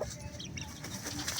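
Hens in a backyard pen cluck softly in a short burst, a few faint bird calls over low background noise.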